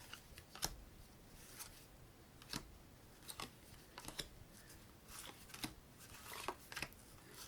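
Baseball cards from 1991/92 packs are flipped over one after another, giving soft, scattered papery snaps and flicks at irregular intervals, quiet and close with no talking.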